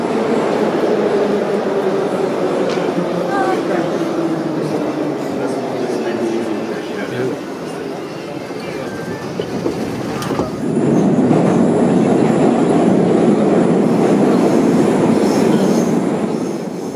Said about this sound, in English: just let you soak up taking the metro here in Kiev.